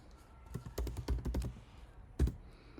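Quick bursts of keystrokes on a computer keyboard as a command is typed into a terminal, a cluster of close, crisp taps followed by a single firmer key press after a brief pause.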